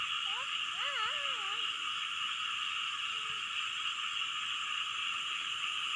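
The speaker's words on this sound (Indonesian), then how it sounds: "Bunyi kodok tuh." A few warbling frog croaks sound early on against a dense, constant chorus of insects, then only the droning insect background continues.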